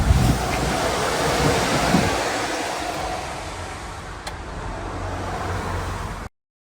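Steady traffic noise from a nearby main road, a loud continuous broadband rush like passing cars and wind, runs for about six seconds with no talking before it cuts off abruptly.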